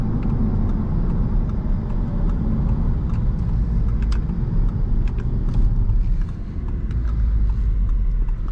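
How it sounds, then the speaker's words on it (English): 2023 Audi TTS engine heard from inside while driving, a steady low rumble with road noise that stays even and moderately loud, with light ticks and rattles on top. "Engine sounds pretty good."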